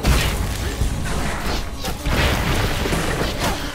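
A loud, dense explosion blast in the fantasy action game Hunted: The Demon's Forge, a sustained rumbling roar with crashing surges lasting a few seconds.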